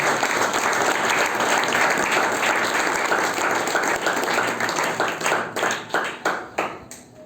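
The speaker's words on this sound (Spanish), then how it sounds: "Dale un aplauso al Señor." A Spanish-speaking church congregation claps together during a worship service, a full steady applause that breaks into scattered, separate claps as it fades out.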